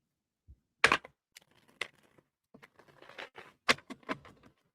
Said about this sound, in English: I want to get a pretty good shuffle here before I get started.